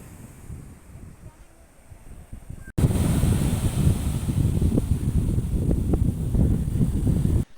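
Sea waves wash at a beach under strong wind that starts softer, then buffets loudly and roughly for most of the stretch before cutting off abruptly.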